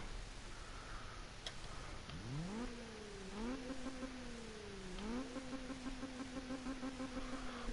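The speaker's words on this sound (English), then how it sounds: "That's the VTEC." A car engine in the Need for Speed 2015 video game revs up with a rising whine, climbs, drops and climbs again as the VTEC kicks in, then holds a steady high drone.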